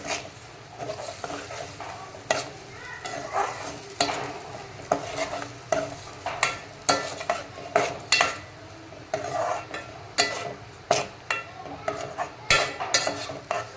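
Onion and tomato puree sautés in oil for a crab masala, soft sizzling beneath repeated rhythmic scrapes and knocks of a spoon stirring against the pan, close and fairly quiet, without speech.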